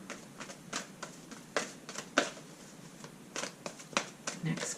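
Oracle cards being shuffled in quick, papery riffles and soft flicks, close by, with a few louder snaps scattered through.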